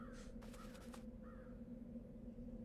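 Crow in the Dreamfall video game gives a couple of rough caws and a softer third call over a steady low hum, fairly faint, with no talk.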